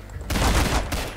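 An M1 carbine in a zombie video game fires a sudden loud burst of rapid shots driven by an auto clicker, starting abruptly after a brief quiet moment.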